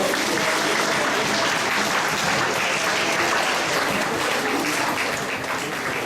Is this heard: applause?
yes